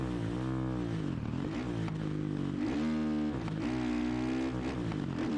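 Supercross video game dirt bike engine buzzing loudly and continuously, rising and falling in pitch through repeated rev surges and gear changes as the bike rides a track.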